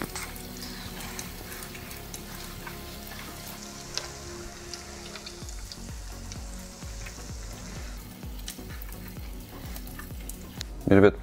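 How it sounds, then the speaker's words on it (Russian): Cheese and potato balls deep-frying in hot oil on a stovetop, a continuous crackling sizzle at moderate level with scattered pops, briefly louder near the end. "Масло у нас нагрелось и будем жарить."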